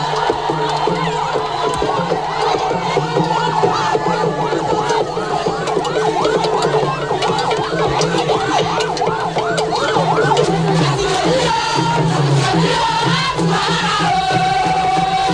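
A crowd in Iperido celebrating the arrival of a monarch, with loud continuous cheering, singing and ululating voices, dense and close throughout, some rising wavering calls layered over the din.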